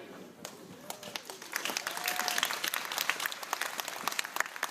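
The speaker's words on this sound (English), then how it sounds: "Let's give Mr. Lugo a round of applause for working with him today" An audience claps after a school honor band concert, the applause starting thinly and building into a fuller, sustained round, with faint voices mixed in.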